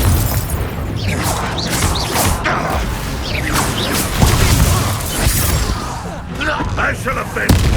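Confringo blasting spell cast in the Hogwarts Legacy video game, dense whooshing bursts and thuds with crashing impacts under ongoing combat voices and music.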